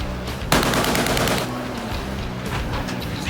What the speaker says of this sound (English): Red bearing green 20, warning shots, fire.